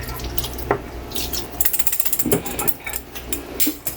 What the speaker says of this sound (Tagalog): Kasi maglalagay tayo ng tubig.